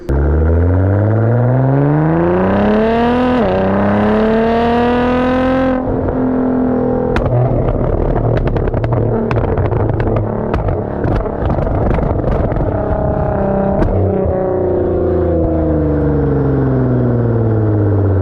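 A modified 2016 Nissan GT-R with a flame-throwing exhaust revs hard and loud up close, its engine climbing and falling in long sweeps with sharp popping and crackling bursts from the exhaust, with no talking.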